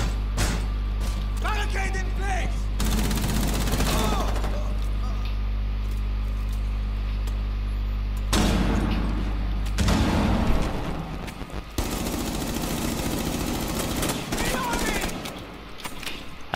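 Gunshots in Rainbow Six Siege, sharp bursts and booms at several points over a constant low hum, with players talking over parts of the exchange.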